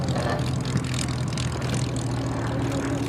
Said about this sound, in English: As the Hurricane comes by again.